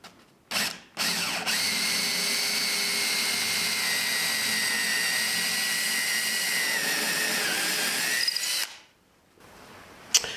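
A power drill boring holes in wood whines steadily for several seconds at close range, preceded by a couple of short bursts and ending abruptly, with no talking.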